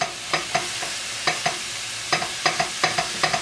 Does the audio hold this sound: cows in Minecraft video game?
no